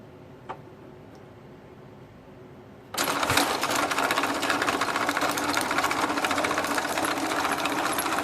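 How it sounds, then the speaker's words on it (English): An electric motor drives the track of a 1/6 scale Dragon Sherman tank under load after a direction change. It starts abruptly and runs steady and loud as a dense mechanical whir with rapid clattering. "you can see the motor has enough torque to just keep moving the track without stalling the motor out"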